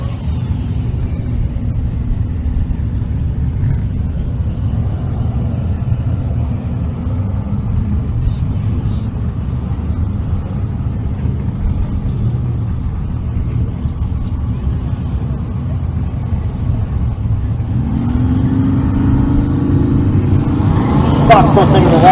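A Fox body Ford Mustang drag race car gives off a low, steady engine rumble that swells and gets louder toward the end, with voices in the background.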